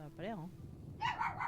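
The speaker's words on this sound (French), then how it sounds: "c'est mon chien qui a dû voir le chat" A pet dog gives a short run of yipping barks from somewhat off to the side, quick and fairly faint, just after a brief spoken voice.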